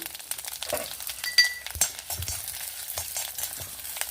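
Cumin, black pepper and dry chillies frying in a spoonful of oil, a quiet crackling sizzle with sharp pops and stirring scrapes, close and alone.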